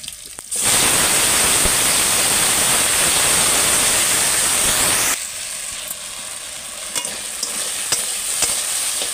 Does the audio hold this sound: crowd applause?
no